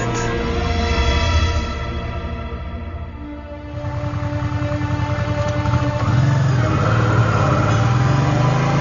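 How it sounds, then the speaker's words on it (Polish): Motorcycle engine starting and riding off in a radio drama, a loud rough idle that dips, then rises into a steady revving drone as it pulls away. "Sawrin uruchomił motocykl i ruszyli w podróż do Moskwy."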